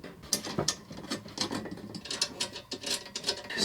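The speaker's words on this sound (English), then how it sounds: "Spanner onto the back of the nuts and just nip them up." Spanner tightening nuts onto the bolts of a wall mount for a Sylvox Deck Pro QLED outdoor TV, giving a close, steady run of rapid ratcheting clicks and metallic ticks with no talking.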